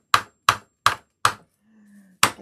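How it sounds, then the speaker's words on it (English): A hammer strikes four times at an even pace with sharp, solid knocks, pauses briefly, then lands a fifth blow. "I'm going to have to use my hammer"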